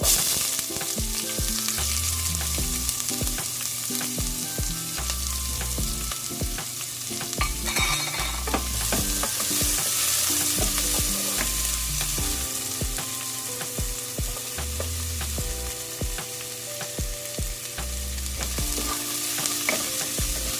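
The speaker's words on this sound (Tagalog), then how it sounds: "ilagay na natin yung ating sibuyas." Onions frying for beef kaldereta, a loud, close sizzle in hot oil with steady stirring and spatula scrapes throughout, no voices.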